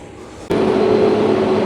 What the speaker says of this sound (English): There's a bloody great tractor.